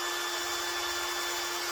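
Drill boring a hole through a plastic Kinder egg capsule, a steady high-pitched whir held at constant loudness for under two seconds with no talking.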